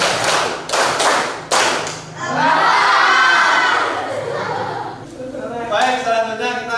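A classroom group claps in a counted rhythm pattern, several sharp unison claps followed by a quick cluster, with voices and shouting mixed in between the beats.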